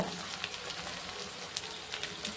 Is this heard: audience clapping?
no